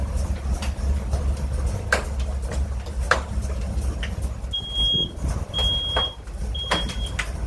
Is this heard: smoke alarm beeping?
yes